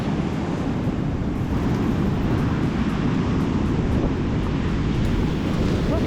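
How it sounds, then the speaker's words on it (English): Strong wind buffets the microphone over constant, heavy ocean surf at Mount Camel Beach on the Eyre Peninsula during winter salmon fishing, with a dense, unbroken roar and no voices. "The water was coming in with such force. Not to mention the wind."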